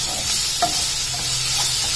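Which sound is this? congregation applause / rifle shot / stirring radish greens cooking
stirring radish greens cooking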